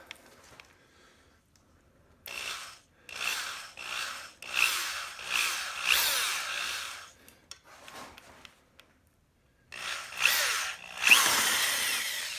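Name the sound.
drill widening hole with 7 mm bit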